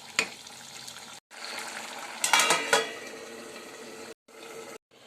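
Elephant foot yam (suran) vegetable being stirred in a pan, with spoon scrapes and clinks against the metal over a soft cooking hiss, several louder scraping strokes in the middle, brief pauses between.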